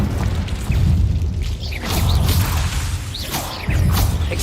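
A Confringo blasting spell goes off in Hogwarts Legacy inside a cave, producing loud booming bursts with whooshing swishes, several blasts in quick succession.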